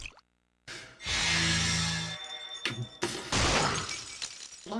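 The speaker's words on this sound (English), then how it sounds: "I like the sound of breaking glass." Glass shatters with a bright crash in the Clock Tower 3 video game, a loud burst of breaking shards followed by a second smash and scattered tinkling debris.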